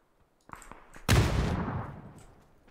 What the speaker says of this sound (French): Je lui ai envoyé une grenade